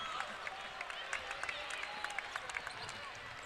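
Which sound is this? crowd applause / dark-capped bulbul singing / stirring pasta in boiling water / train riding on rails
crowd applause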